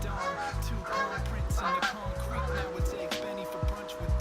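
Geese honk repeatedly outdoors, a run of nasal calls in quick irregular bursts heard faintly from indoors.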